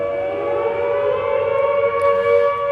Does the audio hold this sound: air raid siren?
yes